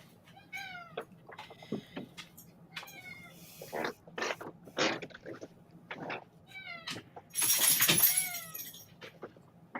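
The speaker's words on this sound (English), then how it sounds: "The thing about cats, I'm like, why do they keep fucking meowing like that so goddamn often?" A cat meows repeatedly in a string of clear, fairly close cries with varied pitch, separated by short gaps, ending in a louder, noisier burst.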